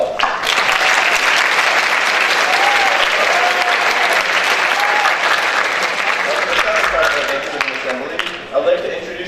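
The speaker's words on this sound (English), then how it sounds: "Now let's give all our student performers a round of applause." A school Thanksgiving assembly audience claps for student performers, with loud, dense, sustained applause from a large crowd in a hall that fades a little toward the end, with a few voices mixed in.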